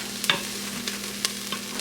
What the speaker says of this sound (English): I love the smell of sauteed onions.